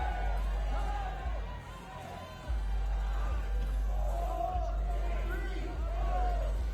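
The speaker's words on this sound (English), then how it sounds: "you can hear the crowd counting down his time" A crowd at an ice climbing World Cup lead final in Denver chants in unison as a climber's clock runs down, rhythmic rising calls repeating over a steady low rumble of the venue.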